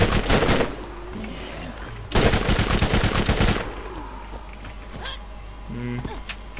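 Bursts of rapid gunfire from a new purple-rarity weapon in the Borderlands video game, loud and close in two long volleys with shorter shots trailing off, amid game effects.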